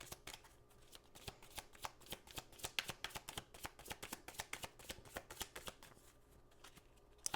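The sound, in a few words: shuffling angel cards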